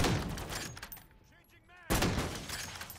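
Gunfire against a sentry gun in Call of Duty: Modern Warfare Zombies, with dense shooting at the start, a short lull, then another loud burst. Talk can be heard under the shots.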